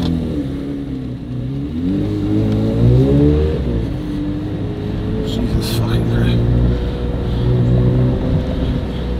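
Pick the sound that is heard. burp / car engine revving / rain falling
car engine revving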